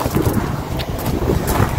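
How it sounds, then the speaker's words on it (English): Steady low rumbling wind buffeting the microphone, a continuous loud blustery roar with no speech. "Sorry, it's very windy."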